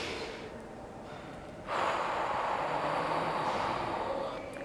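Calming breathing, done as a strong inhale followed by a long, steady exhale. The breath sounds are close and soft, with the airy exhale running on for several seconds.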